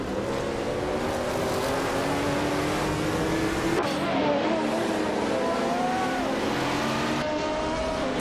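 Racing cars, led by a 1977 Porsche 936, roar off the start line in a video game, a dense sustained engine drone with rising, shifting revs and gear changes, loud and steady throughout.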